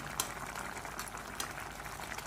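A spring onion and gram flour curry bubbles gently as it simmers in a pan, a quiet, steady burble with no voices.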